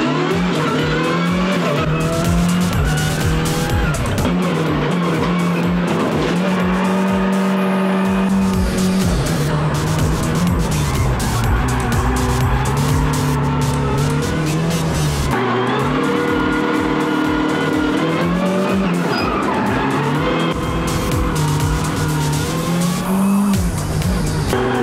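Ford Fiesta Proto rally car on Bridgestone Potenza tyres, a loud, continuous engine revving up and down through gear changes with tire squeal and skidding, heard close and without talk.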